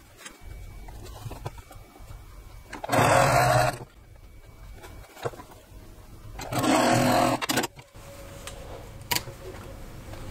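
Two short bursts of a sewing machine stitching quilt pieces directly on the marked line, each lasting about a second, with quiet handling sounds between them.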